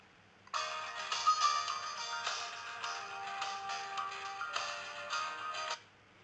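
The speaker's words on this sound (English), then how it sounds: "These are the 32 ringtones." Samsung Galaxy S4 stock ringtones play one after another as bright, melodic electronic tones, clear and fairly close, with no talking.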